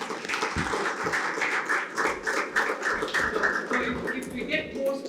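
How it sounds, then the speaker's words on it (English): Audience at a Startup Dialogue 2025 panel finale clapping at moderate volume, an uneven patter of hands with voices mixed in. "Let's give a huge round of applause,"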